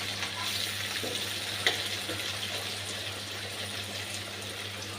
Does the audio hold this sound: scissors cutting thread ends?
no